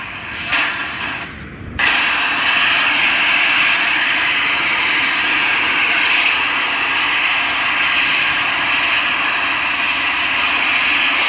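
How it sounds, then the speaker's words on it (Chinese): A passenger airliner arriving from Hefei Xinqiao, carrying 170 people, comes in to land at an airport with a loud, sustained jet engine roar that swells after a brief quieter moment and then holds steady. "看一下马上即将落地进港的飞机来了，从合肥新桥飞往过来的"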